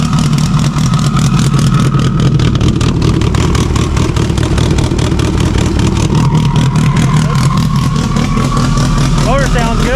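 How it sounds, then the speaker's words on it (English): A Subaru STI with a stock OEM EJ257 longblock revs loudly and continuously up close, rough idle pulses rising into higher engine tones, with people talking over it. "Motor sounds good."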